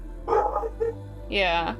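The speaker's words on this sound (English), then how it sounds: "What are you barking at" A dog barks indoors in a couple of short, sharp bursts close by, with a brief word spoken between them.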